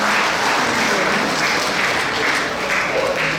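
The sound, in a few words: audience applause for performers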